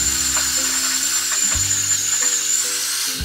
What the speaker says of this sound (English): then in with our mixer